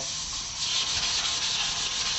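Close, steady rasping of 1000-grit sandpaper rubbed over a car bumper before spraying, a continuous loud scratchy hiss that holds through without pause and without any talking.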